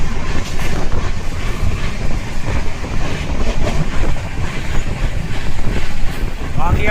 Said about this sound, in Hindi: अपनी ट्रेन ने तो पकड़ ली है अपनी टॉप स्पीड 130